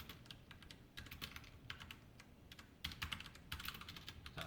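Soft, steady typing of C code on a computer keyboard, continuous quiet clicking keystrokes with a slightly busier stretch near the end, no talking.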